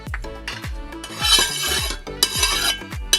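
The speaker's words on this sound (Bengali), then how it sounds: "তেলটাকে আগে ভালো করে একটু ঘষে নেব।" Oil is rubbed and spread over a hot tawa for parathas, producing repeated scraping and rasping strokes of metal on the griddle in an uneven rhythm, close and fairly loud, with no voices.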